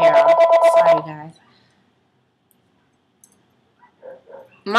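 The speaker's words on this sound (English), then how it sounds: "Mom, get the phone." A telephone ringer chimes in a rapid pulsing burst for about a second in a home, followed by silence and then soft talk near the end.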